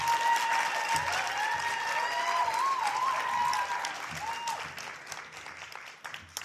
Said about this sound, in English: can I get a round of applause for every poet who read tonight?